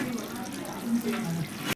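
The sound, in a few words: draining water off cooked rice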